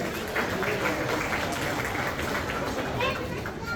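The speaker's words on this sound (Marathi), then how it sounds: "आपण सर्वांकडून एक जोरदार टाळ्या सुशील दादा यांच्यासाठी झाले पाहिजे" Steady dense applause from an outdoor event crowd in Dubai celebrating Sambhaji Maharaj Jayanti, sustained broadband clapping filling the whole stretch with faint crowd noise beneath.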